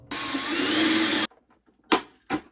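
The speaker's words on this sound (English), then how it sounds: "drill through both pieces and rivet in place" A power drill bores through overlapping pieces of a replica Stormtrooper helmet for rivets, a steady close whining buzz for about a second, then two short sharp bursts after a brief pause.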